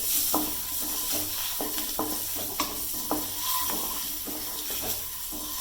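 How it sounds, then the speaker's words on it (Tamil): Scored boiled eggs are stirred and fried in a pan over a low flame, a soft steady sizzle punctuated by regular spoon scrapes against the pan, close and with no talking. "ரெண்டு நிமிஷம் அப்படி கிளறிட்டு முட்டை இந்த ப்ரௌன் கலர்ல மாறவும் எடுத்துடலாம்"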